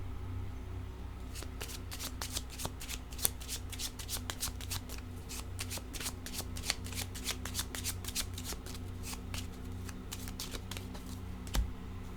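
A deck of cards being shuffled and a card drawn, a dense run of crisp, rapid riffling clicks close to the listener that goes on steadily for many seconds, with no talk over it.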